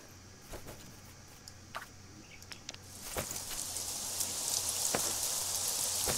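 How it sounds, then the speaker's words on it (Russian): Rain falling in the video game Craft The World, a soft steady patter that swells louder over a few seconds, with scattered sharp drops and taps standing out near and alone. "Вот дождь идет, и он иногда наполняет дом"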